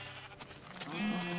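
Sheep in the video game Minecraft bleat in a short, wavering burst, close and fairly clear over a soft background hiss.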